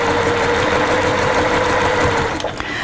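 A sewing machine stitches steadily around the edge of a fabric purse, a loud, close, continuous mechanical whir with a rapid even rhythm that slows near the end.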